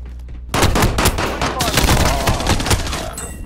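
Light machine gun fire in the Warzone video game, a loud sustained burst of rapid shots with heavy booming impacts, starting abruptly after a quiet moment and ending with faint mechanical sounds.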